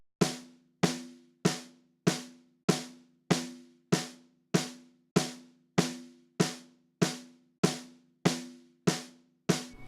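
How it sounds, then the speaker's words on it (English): Looped snare drum run through EQ and a DBX 160 compressor set to about 5 dB of gain reduction, with sixteen evenly spaced crisp hits ringing with short decays, heard alone. "So here's the sound of that snare drum."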